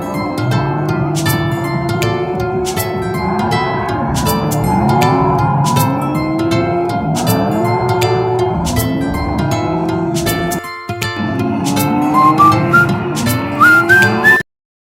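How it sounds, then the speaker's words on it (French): Arcade motorcycle racing game Super Binks 3 plays loud and continuous, with engine whines sweeping up and down again and again over a dense bed of electronic effects, sharp bright clicks and rising beeps near the end. "Moi, je vais faire les motos qui s'appellent Super Binks 3"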